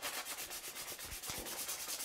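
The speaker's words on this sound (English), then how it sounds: "hand sanding the handle" Steady rhythmic rasping of hand sanding a wooden sword handle, close and continuous, with regular back-and-forth strokes and no talking.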